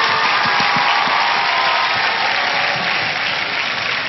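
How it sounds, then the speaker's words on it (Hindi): Loud, sustained audience applause in a television talent show studio, a dense, even roar of clapping from a large crowd lasting the whole stretch. "जोरदार तालियां इनके लिए।"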